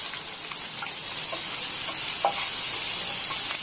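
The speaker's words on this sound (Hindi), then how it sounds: "हमारा तेल गर्म हो गया है, हमने इसमें डाल दिया है जीरा और डाल दिया है इसमें हमने अपना प्याज, हरी मिर्च।" Cumin seeds, chopped onion and green chili fry in hot oil in an Indian kitchen, giving a steady, close hiss and crackle throughout with small pops, and no talk over it.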